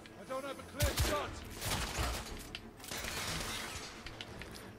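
Gunfire in The Order: 1886, a third-person shooter, comes in ragged volleys and scattered shots over a moderate bed of battle noise, with mechanical clatter mixed in.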